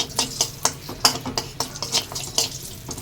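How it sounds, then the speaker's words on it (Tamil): Cashews roast in ghee in a small pan, stirred with a spoon that scrapes and taps in a quick uneven rhythm over a faint sizzle, close by. "முந்திரி போட்டு நல்லா வறுத்துக்கலாம்"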